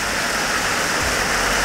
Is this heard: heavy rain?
yes